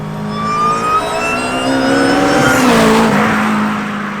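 A supercharged Honda Civic Type R K20 engine in a Lotus Elise revs hard and climbs steadily in pitch, then eases off, loud and close with no talking.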